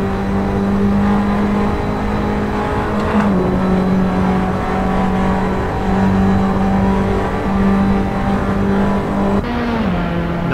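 Formula Abarth race cars lap the Monza circuit, engines droning loudly and steadily with gear shifts and pitch swoops as cars pass, continuous close-up motor noise throughout with no talk.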